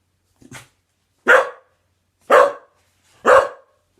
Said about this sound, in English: She barked, and the bark meant, the thief is in here.